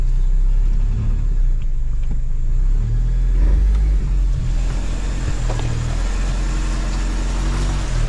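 A 2026 Chevrolet Colorado Trail Boss rumbles steadily while off-roading in terrain mode, its engine a loud, continuous low drone with occasional surges and crunching from the rough ground.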